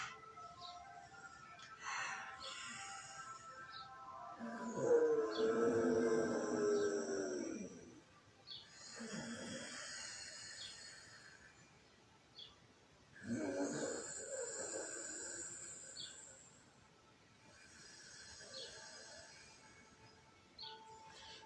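Hatha yoga breathing through a partly closed throat, slow rasping breaths that swell and fade in long cycles, several strong breaths spaced a few seconds apart, close and alone.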